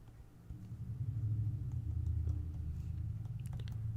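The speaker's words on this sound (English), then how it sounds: "Noisy car going down the road." A car rumbles past on a road, its low engine drone swelling and then holding steady at moderate volume.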